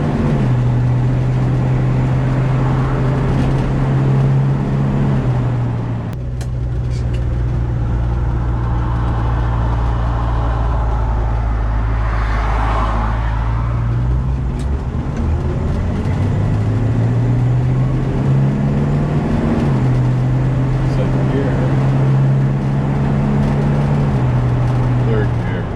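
A 1966 Ford Mustang with a 289 V8 and C4 automatic gearbox drives along, its engine a steady, close, low drone whose pitch steps up and down with the gears for the whole stretch.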